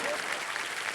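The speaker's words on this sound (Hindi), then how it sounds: "अब ताली मारो।" Audience applause on a celebrity talk show, a dense wash of many hands clapping steadily and fairly loud for about a second.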